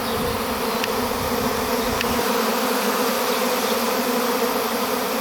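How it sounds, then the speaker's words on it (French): A large secondary honeybee swarm at a château hums in a dense, steady drone that holds at an even loudness throughout, close and continuous with no voices. "Alors, quand c'est un essaim secondaire"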